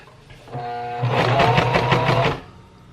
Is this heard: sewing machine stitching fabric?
yes